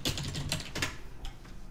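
Typing on a computer keyboard, a few quick, faint clusters of key clicks over less than two seconds, close but quiet.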